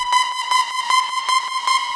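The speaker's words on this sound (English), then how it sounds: "We've got a saw wave and then another saw wave. Detuned very heavily." A bright, buzzy hard techno synth tone holds one pitch with a wobbling, chorus-like beating from two heavily detuned saw oscillators, loud and alone.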